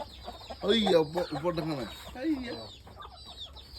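Layer hens cluck in short, bunched bursts nearby, mixed with people talking among the birds.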